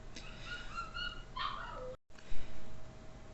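A small female dog whimpers and howls in the background of a quiet room, a few thin wavering cries over about a second and a half, faint and somewhat distant.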